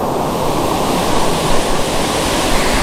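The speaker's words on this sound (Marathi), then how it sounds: "आमच्या गावातला धबधबा" A village waterfall in the Konkan roars steadily and loudly up close during the rainy season, a dense unbroken rush of falling water with no other sounds.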